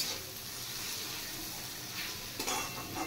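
Masala with chili powder fries in a pan, giving a soft, steady sizzle with faint stirring scrapes and no voices.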